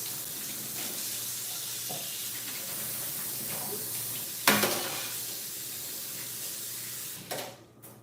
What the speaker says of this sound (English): I will step out and wash my hands.